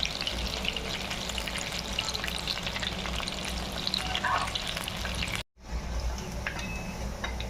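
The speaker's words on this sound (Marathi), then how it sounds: "व्यवस्थित तळून घ्यायची" Crispy clam fritters (kalve bhaji) frying in hot oil, giving a steady, dense sizzle and crackle throughout, with a momentary drop to silence shortly before the end.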